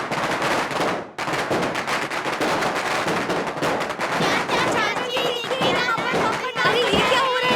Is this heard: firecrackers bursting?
yes